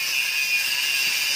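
An angle grinder cuts into the exhaust of a Yamaha Xeon motorcycle, giving a steady, loud, high-pitched grinding whine that holds without a break, close by.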